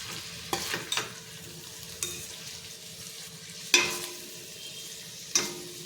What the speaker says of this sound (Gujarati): હલાવી લઈએ આપણે।